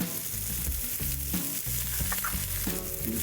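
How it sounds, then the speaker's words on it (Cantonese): Sea shrimp searing in oil in a pan over a high flame as more oil is added, producing a constant close crackling sizzle broken by regular low knocks from the pan moving. "跟住你一路煎咧，一路加啲油落去。"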